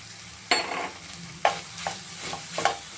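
Vermicelli upma mixture with tomato frying in a pan over low heat, a continuous soft sizzle broken by several scraping stirs of a spoon against the pan, close and fairly loud.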